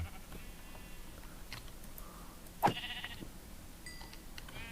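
A sheep in the Minecraft video game gives a single brief bleat over faint, steady game background sound.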